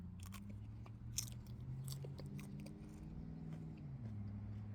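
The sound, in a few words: chewing a Jimmy Nardello pepper from the garden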